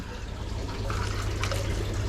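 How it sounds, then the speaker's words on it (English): Water being poured into a small pool inside a sailfin dragon's reptile enclosure, a soft steady splashing and trickling heard close by over a low background hum, with no talk. "So what we're gonna do now is put some water in it."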